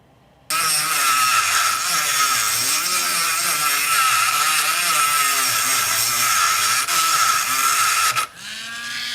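Dremel rotary tool cutting into a computer motherboard, a loud, steady high-pitched whine that runs almost continuously for about eight seconds before cutting off, with a wavering grinding undertone as the bit bites into the board.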